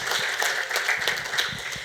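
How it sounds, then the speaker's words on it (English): A crowd at a fundraiser gives a round of applause: steady, moderately loud clapping from many hands through the whole short stretch. "Let's give a big round of applause."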